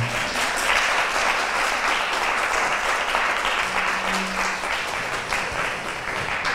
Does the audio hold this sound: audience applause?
yes